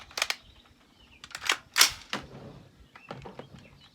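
Colt SP II rifle fired at an outdoor range toward distant targets, several sharp cracks spaced irregularly with short echoing tails, followed by fainter clicks of handling.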